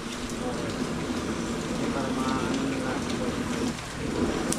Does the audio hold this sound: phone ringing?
no